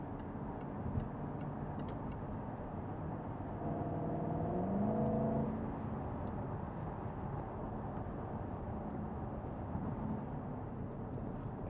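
A 2010 Jaguar XK 5.0 V8 Portfolio accelerating towards a roundabout on a cold day, heard from inside the cabin: a steady engine drone with a rising tone partway through, soft road noise and faint ticking.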